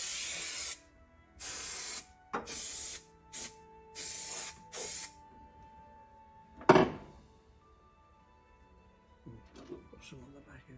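Repeated bursts of spray insulation hissing into a VW Caddy campervan body cavity, five or six short loud blasts followed by a clunk and quieter handling noise, with someone talking nearby.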